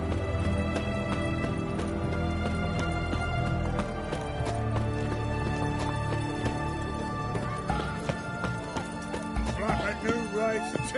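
From a video game, a black horse's hooves clip-clop in a quick, steady rhythm throughout, moderately loud and mixed with game music and ambience, with a voice speaking over it.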